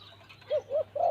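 Three soft, low coos in a row from a spotted dove, each a short rounded call, close by in a quiet setting with a faint steady hum beneath.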